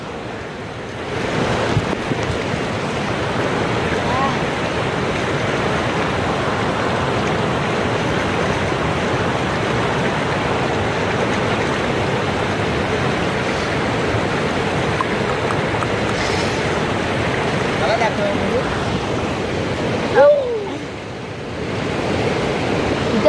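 A swollen river after heavy rain rushes in a steady, loud roar of muddy water, continuous and close, with no voices over it.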